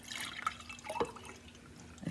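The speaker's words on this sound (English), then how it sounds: "pour you a nice big glass of orange juice." Orange juice poured into a glass at a home breakfast table, a short splashing, dripping trickle of liquid with a few brief drips, close and fairly quiet, no talking.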